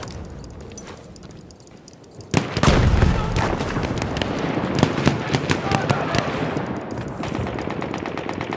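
Battlefield 1 multiplayer combat: a grenade blast booms sharply, then rapid machine-gun fire and scattered gunshots rattle on continuously, with a voice speaking over the fighting.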